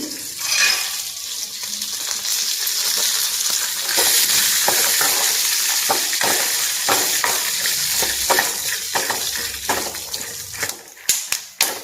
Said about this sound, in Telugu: పచ్చిమిరపకాయలు కొంచెం మగ్గిన తర్వాత ఇవి పల్లీలు వేసేస్తున్నామండి